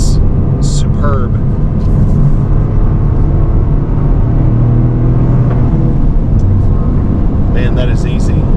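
A 2024 Toyota GR Corolla hot hatch with a 6-speed manual gearbox accelerates through the gears, its engine a loud, steady, close rumble while a person talks over it.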